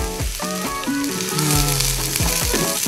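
Onion drops into hot oil already browning garlic for a corned beef dish, setting off a loud close sizzle that swells and stays strong, with tonal background sounds weaving underneath and no speech.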